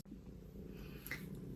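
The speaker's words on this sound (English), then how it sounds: "I'm not sure if you can hear Charlie purring" Domestic cat purring contentedly while settled on a person's lap indoors, a steady low rumbling drone that runs close and continuous throughout the brief moment, with no talking over it.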